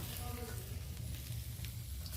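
Koi fish sizzling in a pan of hot oil for a Bengali tel koi dish: a constant close frying hiss with scattered spits and crackles, with no talking.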